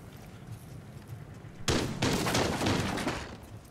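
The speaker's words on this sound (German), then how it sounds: "Das hast du gerade geschossen?" A burst of gunshots in Rainbow Six Siege breaks in abruptly after a quiet stretch, then continues as loud, clustered rapid fire with sharp cracks; voices are faint or absent.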